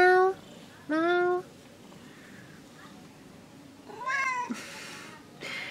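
A cat on the island of Gili Trawangan gives two loud, close meows, then after a quieter pause lets out another longer, rising meow.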